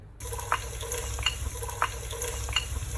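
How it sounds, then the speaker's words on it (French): Rapeseed oil heating in a saucepan for a Réunion-style tuna carry, a soft, steady sizzle with faint regular clinks and stirring scrapes from a utensil against the pan. "Je vous mettrai un peu d'huile dans votre casserole. Moi, j'utilise de l'huile de colza."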